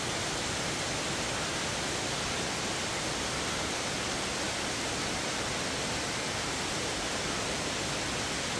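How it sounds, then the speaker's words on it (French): An 80-metre waterfall in tropical forest roars as a dense, steady, broadband rush, loud and unbroken throughout with no talking. "ici on est à 80 mètres de hauteur pour cette cascade"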